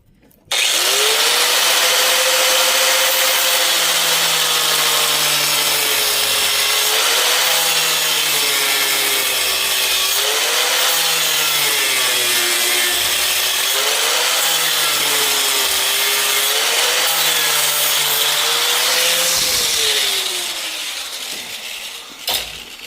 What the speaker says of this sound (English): I'm going to use my grinder.